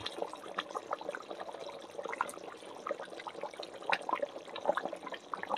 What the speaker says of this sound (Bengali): এবারে আমি ভেজে রাখা মাছটা এই যে দিয়ে দেবো।